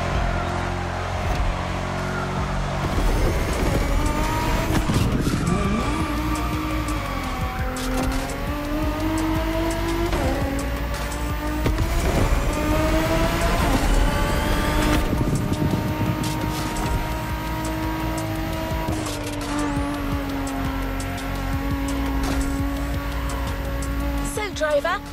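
Ford Mustang GT500 racing on a circuit in The Crew Motorfest, its engine droning and revving steadily through gear changes with occasional tire squeal, heard under a voice talking throughout.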